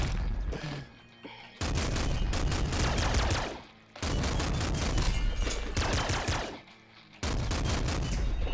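Rapid bursts of grenade shotgun fire in the video game Nuclear Throne, loud dense blasts in three long volleys separated by brief pauses.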